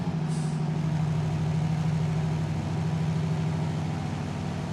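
A Kenworth W900A truck in Euro Truck Simulator 2 runs with a constant low, throbbing engine drone, and a brief hiss near the start like an air brake release.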